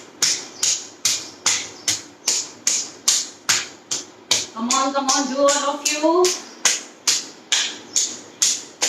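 Steady, loud hand clapping during a yoga exercise session, a regular beat of crisp claps about twice a second, with a voice briefly talking and singing over the middle stretch.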